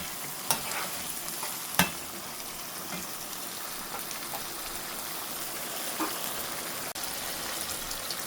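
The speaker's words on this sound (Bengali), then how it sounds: "এটা সুন্দর করে কষিয়ে নিতে হবে কাঁঠালের বিচিটা মশলার সঙ্গে।" Jackfruit seeds frying with spice paste in a pan, a continuous dense sizzle with occasional soft scrapes and taps of a stirring utensil.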